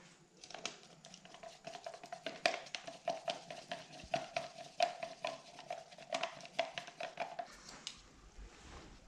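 Tinted resin colors are stirred in a container, giving a steady run of quiet rhythmic taps and scrapes, fairly faint and close, with no talking.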